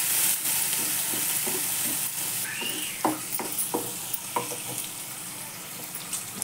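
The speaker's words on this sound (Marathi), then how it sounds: "सगळंच घालून टाकते आणि परतून घेते चांगलं" Cabbage and capsicum sauté in a pan with a soft, steady sizzle, broken by a series of sharp spatula scrapes and taps against the pan in the second half. No one talks.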